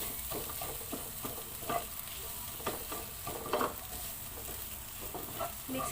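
Leftover fried rice with vegetables is stirred in a pan, a steady frying hiss under repeated scraping and tapping of the utensil against the pan bottom, close and moderately loud.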